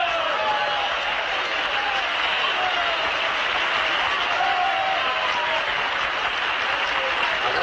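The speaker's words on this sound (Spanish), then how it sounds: "Agradezco estos aplausos tan desnutridos, a la par que merecidos" A seated audience listening to a comic mock-parliamentary speech claps in a sustained, even wash of applause that holds at a constant level throughout, with faint chuckles mixed in and no clear speech.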